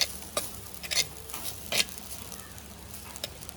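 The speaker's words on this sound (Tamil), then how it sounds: "போட்டோன்னே அந்த எண்ணெய் சத்தங்கள்" Oil sizzles faintly in a pan, with soft crackles and a few sharp ticks and clinks of stirring over a quiet background.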